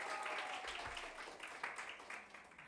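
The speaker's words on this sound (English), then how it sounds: "another round of applause for her" Audience applause after a speaker asks for another round for a colleague at a community meeting, a dense wash of many hands clapping that fades somewhat over a few seconds.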